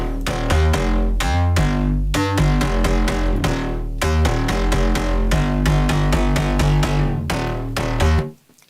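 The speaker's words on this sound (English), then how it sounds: "The bass sound sounds like this." Synthesizer bass sound for an EDM track, playing a punchy rhythmic pattern of heavy low notes with bright upper layers, loud and continuous before stopping abruptly.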